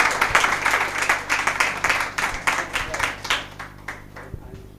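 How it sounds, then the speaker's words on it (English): Audience applause at a Lagos State hospitality and tourism event, a steady round of clapping from a crowd that holds strong and then thins and fades toward the end. "And please, let's give them another round of applause."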